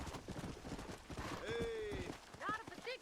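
Horses gallop in a Red Dead Redemption race, a fast rhythmic clatter of hooves close by, with a tonal whistle-like call over it and someone talking.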